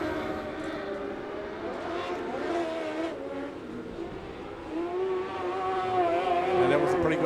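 Stock cars roar past at a night meeting in Gisborne, engine notes climbing and fading as they sweep by, with a commentator talking over the racket throughout.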